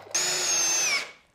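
A power drill drives a 2.5-inch pocket hole screw into a wooden plank for a planter box, one steady whining run of about a second that stops abruptly, close and alone.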